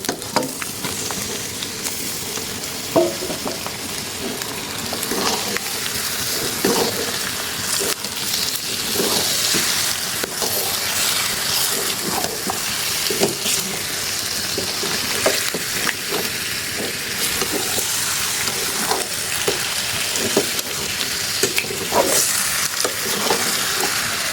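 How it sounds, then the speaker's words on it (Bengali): Beef sizzles loudly in a pan of browned spices in a village kitchen, a continuous close frying hiss broken by repeated scraping stir strokes throughout. "আমার মশলা ভাজা ভাজা হয়ে গেছে কালারটা সুন্দর ব্রাউন কালার হয়ে গেছে আমি একটা মাংসগুলো দিয়ে দিব"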